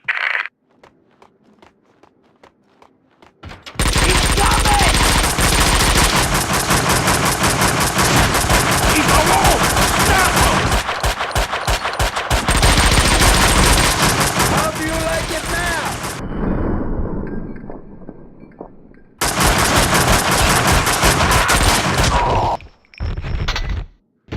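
Video game gunfire in Max Payne 2, long loud stretches of rapid continuous shooting broken by brief lulls, with dialogue heard around the action.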